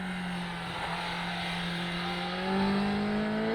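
A Kawasaki ZX-10R superbike engine on a race track holds a steady high-pitched wail, then climbs higher as the revs rise toward the end.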